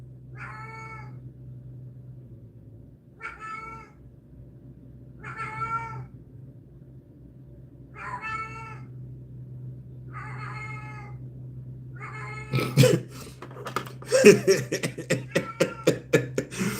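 A cat meows several times in evenly spaced calls, moderately close, over a low steady hum; toward the end a burst of other noise and voices takes over.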